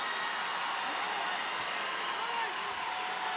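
A large crowd murmurs and stirs inside the Dakota Dome during a high school football championship game, a constant distant roar of voices with faint scattered shouts.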